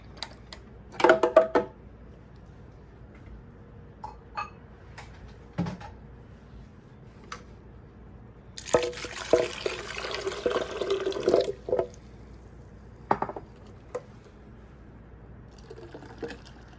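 Water pours in a steady splashing burst into a pitcher for strawberry lemonade, alone in a quiet room, with a few scattered knocks and clinks of glassware around it.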